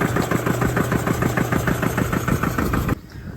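A piston air compressor in a garage chugs in a loud, steady, fast pulsing rhythm close by, then cuts off abruptly near the end, with no talking.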